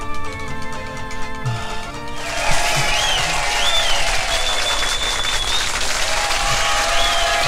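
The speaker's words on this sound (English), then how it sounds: "I like this clapping just in the middle of one long song." An audience at a polka dance with all-skate roller skating applauds and claps along amid crowd noise, with a brief whistle-like tone. Steady, fairly loud clapping that swells after a softer opening with music.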